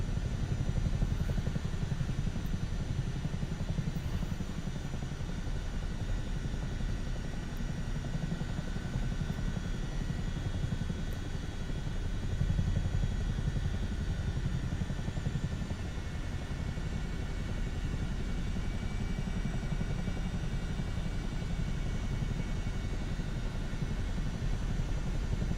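A helicopter flies in Microsoft Flight Simulator 2024, giving a constant heavy rotor-and-turbine drone with a low rumble that holds steady and loud throughout, with no talking.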